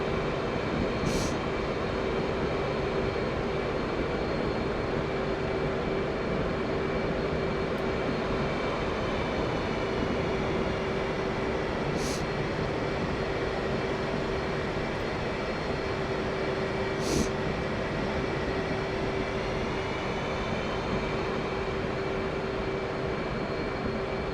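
A steady, loud jet engine roar from an F/A-18C in the DCS World flight simulator drones on unbroken, with a sustained whine running through the noise and a few faint clicks on top.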